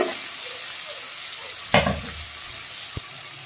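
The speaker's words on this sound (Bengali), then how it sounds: "এখন এগুলোকেও 1 মিনিট মতো ভালোভাবে ভেজে নেব।" Chili powder and turmeric powder frying in a pan, a steady close sizzle with a sharp stirring clatter midway and a brief knock near the end.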